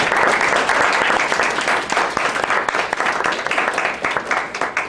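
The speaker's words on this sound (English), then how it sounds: "I think who we should applaud for is Helen Handley Houghton" A room full of people at a literary reading applauds loudly and steadily, dense clapping that continues throughout and thins slightly toward the end.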